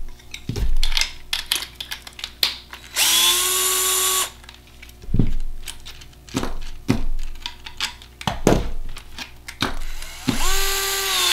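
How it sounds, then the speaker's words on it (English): DeWalt gyroscopic electronic screwdriver changing a propeller nut, giving several short high whirring bursts of the motor separated by clicks and knocks of metal parts being handled, close and loud with no talk. "I'll change a prop with the DeWalt"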